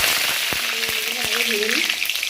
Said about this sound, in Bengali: কড়াই তেল দিয়ে দিয়েছি, আর তেলটাও গরম হয়ে গেছে